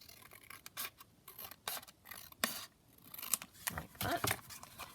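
Scissors trimming paper for a pocket in a handmade journal, a run of close, crisp snipping cuts in uneven bursts with light paper rustle between them, no voices.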